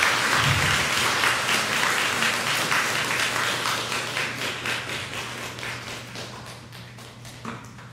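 A church congregation at a Christmas service applauding its guests and choir, a dense burst of clapping that gradually thins and fades over several seconds.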